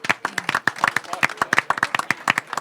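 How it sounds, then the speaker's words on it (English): Audience applause for a moderator at an Alaska gubernatorial debate forum, a smallish crowd clapping close by with individual sharp claps clearly separable in an uneven, lively rhythm. "Give Rebecca a round of applause"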